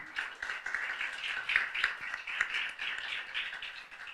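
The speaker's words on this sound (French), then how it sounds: "On l'applaudit" A small audience at a French debate competition final claps for a speaker, producing a fairly quiet, brisk patter of hands that stays even and steady throughout.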